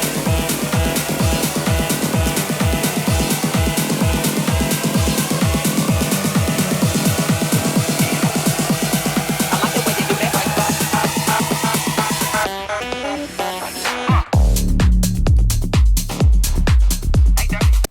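A pounding electronic dance track builds with a rising riser and dense beats, then abruptly cuts out and jumps straight into a different song's heavy drop.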